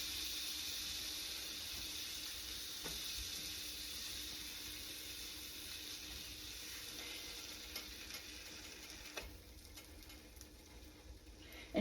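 Butter sizzling in a hot pan, a steady faint crackling hiss that holds throughout and thins slightly toward the end, with no talking.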